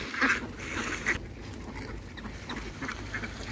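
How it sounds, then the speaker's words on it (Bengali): Khaki Campbell ducks on a farm flock of about 1500 birds, quacking in short, repeated calls over a steady outdoor background. "এই হাঁসগুলোর নাম হচ্ছে অরিজিনাল খাঁটি ক্যাম্বেল হাঁস।"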